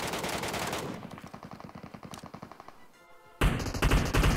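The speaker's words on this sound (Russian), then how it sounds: "там уже люди стреляются" Automatic gunfire in the video game Metro Royale: a long rapid burst of close shots that thins out, then heavy loud firing resumes near the end.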